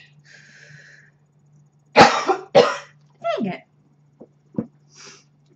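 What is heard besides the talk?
coughing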